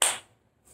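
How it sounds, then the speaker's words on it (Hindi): A single sharp hand clap, a taali marking the beat in Kathak, rings out once and fades quickly into near silence before a faint trailing sound at the end. "जब एक हाथ से दूसरे हाथ पर आप आघात करते हैं या बजाते हैं तो उसे ताली कहा जाता है"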